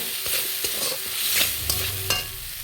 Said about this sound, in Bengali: টমাটো আর আদার পেস্ট এর সঙ্গে দিয়ে দেবো জিরে গুঁড়ো জিরে গুঁড়ো দিয়ে দিলাম দিয়ে ভালো করে নেড়ে নেব